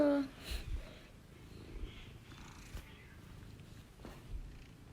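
A short-haired cat with a freshly trimmed coat purrs softly with a low, steady rumble, close by, while someone talks over it and a brief meow sounds at the start.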